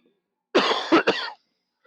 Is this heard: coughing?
yes